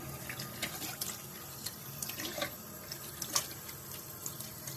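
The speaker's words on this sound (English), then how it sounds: "I'll turn the hot water on and I'll make sure it's really hot" Hot water running from a bathroom tap into a sink, a steady faint splashing stream with scattered drips, close and without talk.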